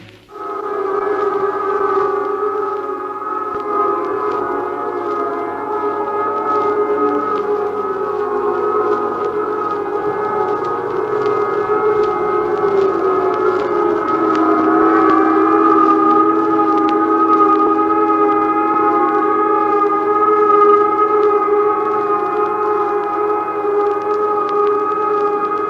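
A civil defense air raid siren sounds a Paris region alert, a loud sustained wail with steady overlapping tones that holds for the full length, slowly rising and shifting in pitch, alone with no talk.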